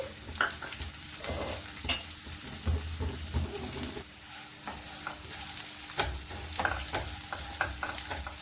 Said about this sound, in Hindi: हम लगातार चूड़े को चलाते रहेंगे।